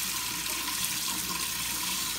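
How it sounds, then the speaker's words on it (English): Running water rinsing ferric chloride off an etched Damascus steel blade, a close, steady hissing splash that holds at an even loudness throughout. "Rinse our ferric chloride off."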